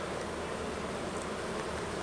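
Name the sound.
honey bees buzzing during a hive inspection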